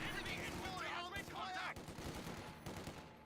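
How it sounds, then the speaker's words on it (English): MG42 machine gun bursts rattle in rapid, dense strings in the Company of Heroes 2 strategy game, mixed with other battle sounds under a commentator's voice. "MG42 fires burst onto the rear echelons."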